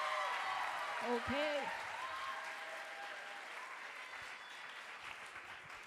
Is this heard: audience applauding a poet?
yes